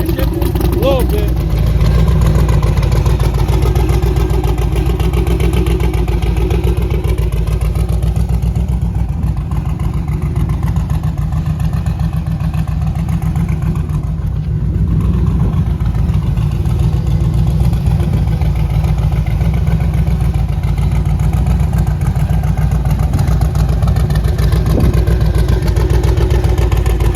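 A twin-turbo LS engine in a G-body car drones steadily while driving, a continuous mid-low rumble with slight surges, heard from inside the car as someone talks over it.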